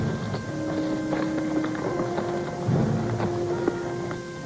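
Horses' hooves clip-clop on the ground in an old Western setting: a few scattered hoof strikes under a steady low rumble and wind-like hiss, fairly close and moderately loud.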